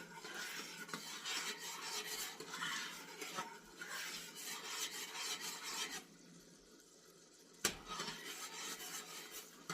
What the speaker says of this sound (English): We got a good rolling boil right now.